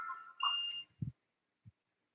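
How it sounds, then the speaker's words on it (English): A home oil infuser beeps to signal it has finished: a short electronic tone that rises to a higher pitch, followed by a couple of soft, dull knocks in an otherwise quiet room. "that was my infuser saying it's done."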